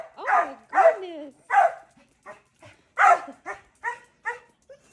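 A dog gives a series of close, loud barks and yips with whimpering cries between them, uneven bursts separated by short pauses.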